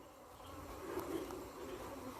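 Honey bees buzz at a hive that is being calmed with smoke, giving a soft, steady hum of many insects that stays faint and even throughout.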